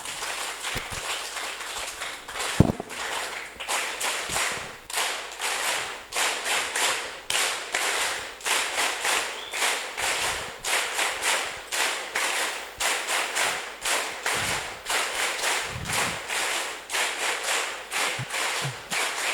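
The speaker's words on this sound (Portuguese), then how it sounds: "Vou pedir palmas bem fortes." A rally crowd in Chimoio claps hard and fast, honouring martyrs with strong applause. The sharp, dense claps come in repeated surging bursts with brief pauses between them, loud and close, one crack standing out early.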